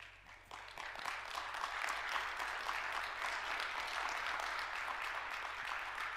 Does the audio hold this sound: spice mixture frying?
no